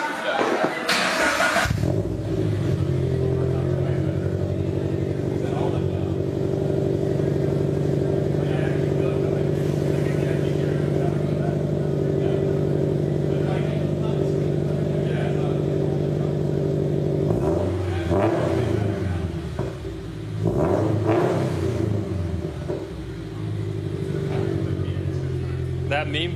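A car fitted with open flash headers revs hard with a loud, raspy, continuous roar, then the engine note wavers through several blips near the end, heard close by.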